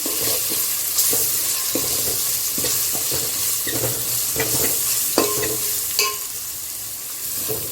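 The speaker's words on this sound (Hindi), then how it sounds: "अब 4-5 हरी मिर्ची इसको बीच में से कट करके ये भी डाल देंगे और अच्छे से प्याज को भूनना है।" Onions and slit green chilies frying and being stirred in a pan, giving a steady close sizzle with repeated scraping stirs and small clinks, no talking.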